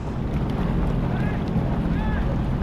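A personal watercraft skims across open ocean with a steady low engine drone and heavy wind buffeting throughout, while brief whistle-like tones rise faintly above the rumble.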